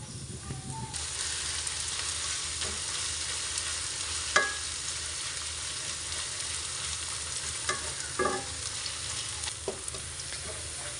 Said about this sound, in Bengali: এখন অনবরত নাড়াচাড়া করে পেঁয়াজের বেরেস্তাটা করে নিয়েছি